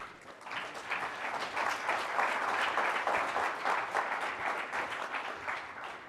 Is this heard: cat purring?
no